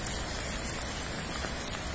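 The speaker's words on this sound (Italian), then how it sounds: "La pioggia continua" Steady heavy rain pours down outdoors near the flooded Bormida river bridge at Spinetta Marengo, a dense continuous hiss of drops with no pauses or voices.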